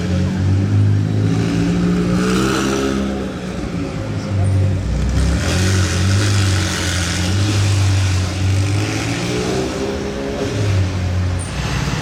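A sports car with a loud exhaust revs on a Monaco street, a deep, close engine note swelling and easing through repeated blips that dominate the scene.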